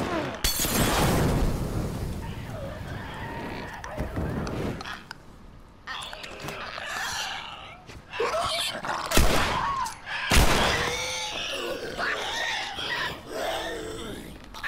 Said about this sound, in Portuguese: pra garantir dei dois tiros